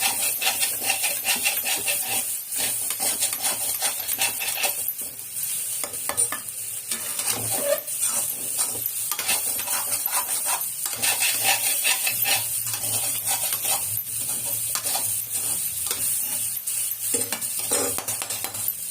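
Idli upma with grated carrot stirred in a hot pan, a steady sizzle running throughout with repeated scraping, rubbing strokes of the spoon against the pan, no voices.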